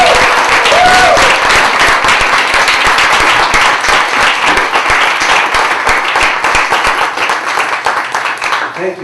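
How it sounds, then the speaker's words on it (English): A crowd claps loudly and continuously for several seconds, with a voice faintly audible at the start, the applause slowly tapering toward the end. "give a round of applause to our"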